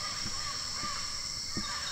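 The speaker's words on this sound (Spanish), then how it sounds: "mientras escuchamos varios pájaros cantando" Several birds call at dusk beside an Amazon stream, including a few short harsh caws spaced irregularly over a dense, continuous bed of insect-like and bird chatter.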